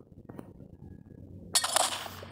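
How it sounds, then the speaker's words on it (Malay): A distant gunshot in the Roblox game Hunt, a single sharp crack with a brief noisy tail after a quiet stretch of faint background sound. "Tembakan daripada jauh."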